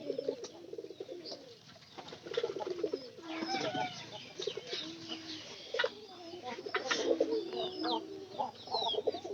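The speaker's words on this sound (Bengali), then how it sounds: "এই তো আমাদের কিন্তু কবুতরের অবস্থা" Pigeons coo repeatedly in low, rounded calls close by, some overlapping one another, with other bird calls and faint background sounds mixed in throughout.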